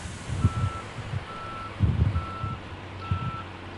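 A truck in Snowrunner backs up with a steady reversing alarm, four evenly spaced beeps over a low diesel engine rumble with occasional heavier throttle surges.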